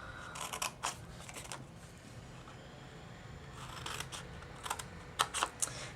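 Scissors cut card stock along score lines in short snipping bursts, soft close clicks in two clusters with a pause between, quiet and without speech.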